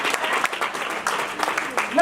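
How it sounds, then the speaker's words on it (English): An audience at an indoor event claps in quick, uneven bursts, a short close ripple of applause with speech mixed in. "Oh, clap, yeah."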